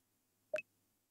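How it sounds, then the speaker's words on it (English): A single short electronic beep in the Minecraft Botania mod counting enchanted books, a brief clear tonal blip over near silence. "you hear the beep that's going to count them for each enchanted book"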